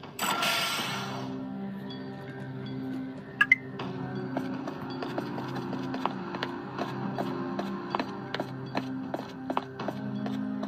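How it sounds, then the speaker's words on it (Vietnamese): A door mechanism grinds open in a LEGO video game: a brief whoosh first, then a steady run of mechanical clicks and ratcheting gear ticks over a low hum. "Cánh cửa sẽ được mở ra."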